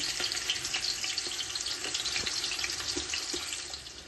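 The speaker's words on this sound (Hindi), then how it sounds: "अब यहाँ पर हमारे प्याज फ्राई हो रहे हैं" Finely chopped onions sizzling in hot cooking oil in a pan, a dense, steady crackling hiss with small pops, close and continuous, fading slightly at the end.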